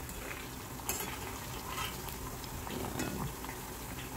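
Banana slices frying in hot oil for crispy banana chips are stirred in the pan, giving a steady, dense sizzle with a few utensil scrapes and clicks. A brief spoken word cuts in.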